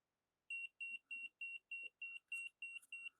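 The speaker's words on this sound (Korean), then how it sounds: "LED가 전멸하고 경보음이 발생하여 저전압 보호 기능이 작동하였음을 알려주며 출력 전류가 차단됩니다" A ZK-U15 multifunction battery tester sounding its low-voltage protection alarm: a run of about nine sharp, evenly spaced electronic beeps, close and clear against an otherwise silent background.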